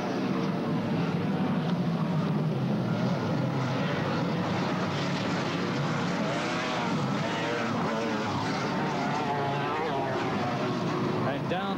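Formula One racing powerboats, including the black and gold John Player Special boat, roar past at the Bristol Grand Prix, a distant steady engine drone under continuous race commentary.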